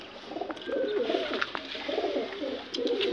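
Several pigeons coo in a loft in low, throaty rolling phrases, repeating steadily and close by, with faint rustling behind.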